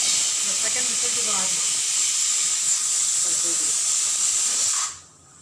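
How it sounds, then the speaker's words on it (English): Pressure cooker whistling and hissing steam while rajma cooks, a loud continuous high-pitched jet with faint voice beneath, cutting off abruptly near the end. "This is the second whistle has come."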